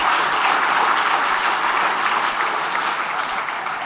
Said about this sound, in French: Et ce serait bien de l'applaudir aussi.